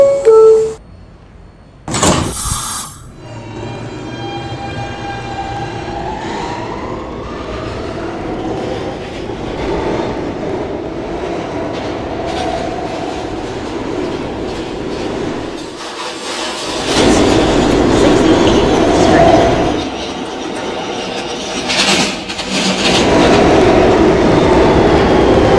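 An R160B subway train on the B line runs between stations with a loud steady rumble, rhythmic clickety-clack of wheels over rail joints and brief squeals and surges, with no voices.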